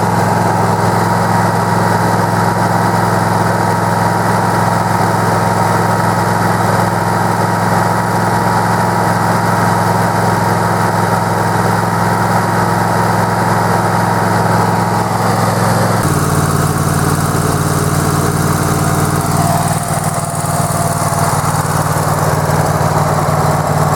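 A zero-turn mower fitted with a Harbor Freight 22HP engine runs continuously and loudly up close, a steady droning hum that shifts to a lower, rougher tone partway through as the throttle changes.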